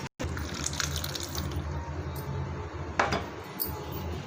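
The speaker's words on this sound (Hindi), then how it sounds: "4 चम्मच खाने वाले नींबू का रस है, ये डालेंगे हम।" Lemon juice poured into a tandoori chicken biryani marinade makes a steady close liquid trickle that runs for several seconds, with a small clatter near the end.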